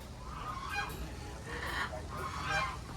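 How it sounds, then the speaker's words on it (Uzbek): Macaw parrots at a zoo give repeated harsh, honking squawks in short bursts, moderately distant. "Bular Makka degani shekilli."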